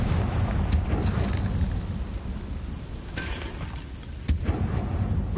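Blasting Confringo spell explosions in a PS4 video game, a dense roar of rumbling blasts with a few sharper bursts standing out, loud and close throughout.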